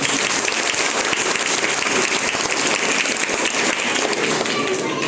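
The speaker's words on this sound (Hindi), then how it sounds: "इसलिए एक बार जोरदार ताली हो जाए।" Loud, sustained applause from an audience at a business seminar, dense clapping filling the whole stretch without a break, with voices mixed faintly into the crowd noise.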